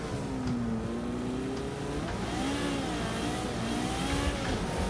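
A Ferrari F40 engine revs in Project Cars 2 at Les Essarts, its pitch rising and falling in steady sweeps as the car accelerates and shifts, heard alone with no talk.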